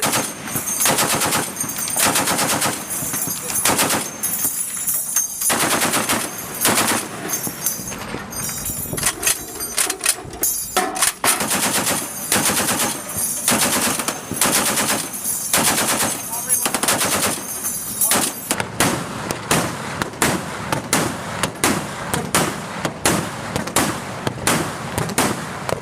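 Sustained bursts of US Navy machine gun fire aimed at an abandoned lifeboat, loud rapid volleys repeating one after another across the whole stretch with brief pauses between strings of shots.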